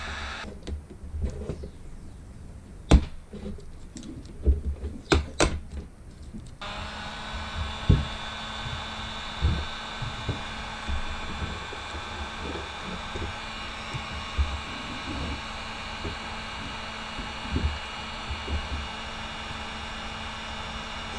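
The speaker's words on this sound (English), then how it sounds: "I'll use a heat gun now to put a little bit of heat onto it" A heat gun warms old decals on a snowmobile before they are peeled off, blowing a steady airy roar that runs throughout, with scattered clicks and knocks over the first several seconds and light handling noises later.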